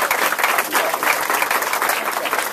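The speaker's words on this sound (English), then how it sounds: "But give Dave a big round of applause." Dense, steady applause from a campaign kick-off crowd fills the whole stretch, loud and close with no pauses.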